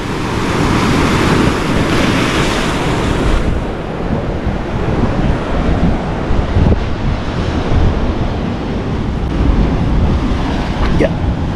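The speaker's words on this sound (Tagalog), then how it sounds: "At yung alon malakas pa rin." Strong high-tide surf crashes and roars continuously on an Australian shore, with wind buffeting the microphone throughout, a loud, steady wash of breaking waves.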